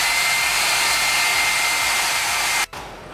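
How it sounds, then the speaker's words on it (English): A hair dryer blowing steadily to heat a black Lotus steering wheel, a loud, even whooshing hiss that runs unbroken, then abruptly cuts off near the end, leaving a quieter fading whir. "Grab the heater, the air dryer."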